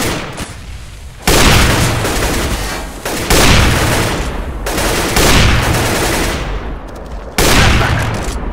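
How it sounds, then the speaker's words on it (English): A video game grenade detonates in a series of loud, booming blasts, each sharp impact followed by a rolling, noisy decay, repeating several times close by. "Throwing a grenade."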